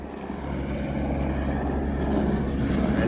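A helicopter drones overhead along the Everest Base Camp trek between Taksindu and Bupsa near Nunthala, a steady low rotor and engine hum that swells slightly louder toward the end.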